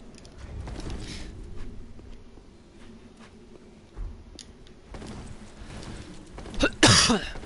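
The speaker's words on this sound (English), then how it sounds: "This cough, man." A coughing fit during Dark Souls 3 play on PS4, with a couple of rough, raspy bursts near the end over soft game ambience and faint ticking.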